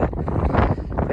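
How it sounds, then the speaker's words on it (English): Strong gusting wind on a hilltop buffets the microphone in loud, uneven rumbling bursts at close range. "It's getting quite windy up here now."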